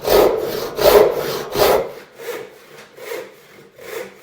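Handsaw strokes cutting a taper along a wooden table leg, with three loud, rhythmic rasping pushes followed by several lighter, quicker strokes, close by and with no voices.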